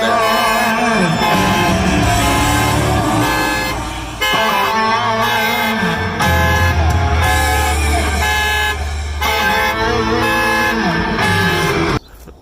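A Tesla alarm triggered in Sentry Mode blares in loud, repeated horn-like blasts with short gaps, a harsh honking pattern close by that cuts off abruptly near the end.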